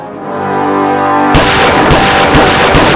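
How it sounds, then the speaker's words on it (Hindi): A sudden burst of loud, sharp gunfire rings out after a sustained droning tone, with several shots cracking in quick succession. "गोलियां चलने की आवाज आई ना?"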